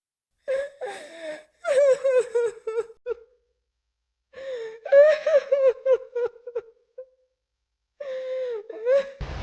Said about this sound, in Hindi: उसमें रात के अंधेरे में किसी के रोने की आवाजें आती थीं